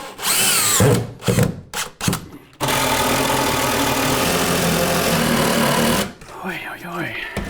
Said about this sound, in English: Matt, can you give me my impact driver?